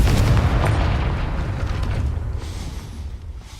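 The Confringo fire spell in Hogwarts Legacy lets off a deep, rumbling explosion that starts loud and slowly fades into a dull roar over a few seconds.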